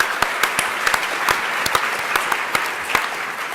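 A few scattered, sharp individual claps ring out in a conference hall at a closing keynote, sparse and irregular over a background hum rather than full applause.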